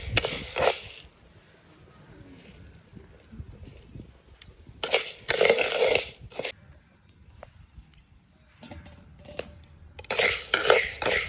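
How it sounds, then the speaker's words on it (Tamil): Green gram is dry-roasted in a pan and stirred, with bursts of scraping and rattling grains at the start, middle and end, separated by quieter stretches. "பயிரை வந்து நல்ல பொன்னிறமாக வரும் மட்டும் வறுக்கணும்"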